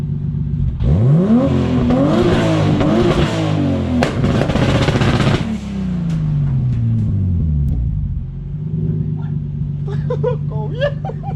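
Turbocharged BMW E30 with an M52 engine on two-step launch control, loud and close: sweeping revs climb, bang and hold on the limiter for several seconds, then drop to a rough idle with sharp crackles and pops.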